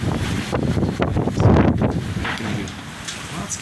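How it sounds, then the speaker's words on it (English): Strong wind at sea aboard a sailboat after leaving Puerto Vita, Cuba, a loud continuous rushing roar buffeting the microphone with gusty swells and no talk. "The wind was quite strong when I left, but it's calmed down now."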